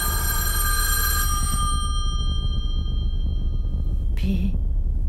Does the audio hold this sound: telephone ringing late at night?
yes